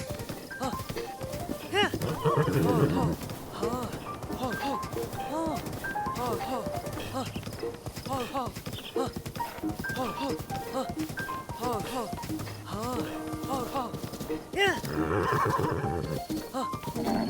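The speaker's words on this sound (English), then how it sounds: "It's a pretty large horse." A horse whinnies twice amid steady clip-clopping hooves and in-game ambience from The Legend of Zelda: Breath of the Wild, with a voice talking over much of it.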